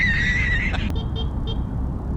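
A short high-pitched motorcycle horn on a Yamaha NMAX beeps a few times in quick succession over low engine rumble, after a longer thin tone at the start.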